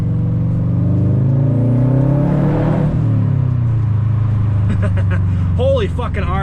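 A Mazda RX-8 revs hard and rips past under a bridge, its loud rising engine roar sweeping by close, with people talking and exclaiming over it toward the end.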